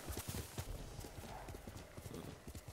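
In Ghost of Tsushima a horse gallops up after being called, rapid clip-clop hooves thudding in an uneven rhythm with a brief whinny, close and moderately loud.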